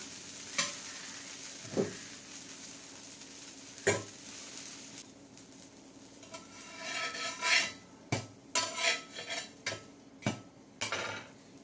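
Jowar (sorghum) dosa fries in oil on a pan, a soft sizzle under repeated sharp scrapes and clinks of a metal spatula, growing busier as the dosa is flipped and worked.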